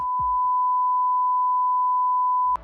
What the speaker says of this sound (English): a Sone is a tone of 1000 hertz or 1 kilohertz, which sounds like this